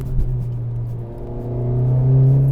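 A Honda Civic Type R engine hums steadily while driving, a low droning rumble that swells as the revs climb toward the end, with road noise beneath and no talking.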